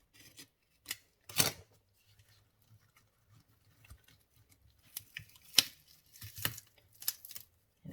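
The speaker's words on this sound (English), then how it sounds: "I'll cut that paper" Scissors snipping through paper while making a silicone mould, a few sharp crisp cuts spaced out over several seconds, close and fairly quiet with silent gaps between.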